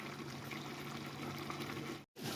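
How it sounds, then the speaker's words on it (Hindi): Water is poured into a cooking pot of frying beef trotters, giving a steady, hissing rush of liquid and sizzle that runs continuously, then cuts out briefly before resuming. "अब जो पानी निकाला था वो इसमें ऐड कर देंगे।"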